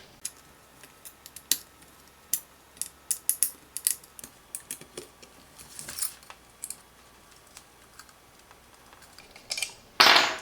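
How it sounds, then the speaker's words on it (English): An Allen key tightens the screws on a Parkside PSTD 800 E4 jigsaw, giving a string of small, close clicks, creaks and ratcheting ticks at an uneven pace, with a brief louder rattle at the end. "And then use again the Allen key,"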